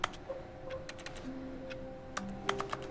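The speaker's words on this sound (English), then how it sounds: "love the clicking noise" Rapid, dry clicks tick irregularly in The Stanley Parable Ultra Deluxe, light and crisp like keyboard taps, scattered over a quiet low hum with a soft tone drifting underneath.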